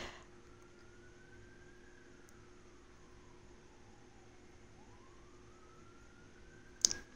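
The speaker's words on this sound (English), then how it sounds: "there's been so many sirens today." A distant siren wails faintly, its tone rising and falling slowly over steady background hiss, ending with a sharp click.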